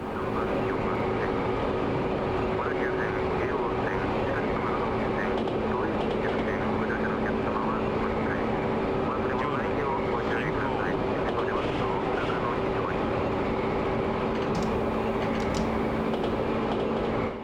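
A train accelerates in the Densha de GO! FINAL game: a steady loud drone of motor hum with a sustained tone and rumbling wheels, running continuously throughout.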